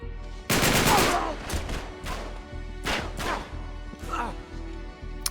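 Bursts of blind-fired gunfire in the video game Uncharted 3, loud and close, with rapid volleys and heavy impacts rising and falling over a low background rumble.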